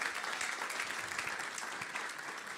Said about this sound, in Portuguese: Uma salva de palmas para o Felipe.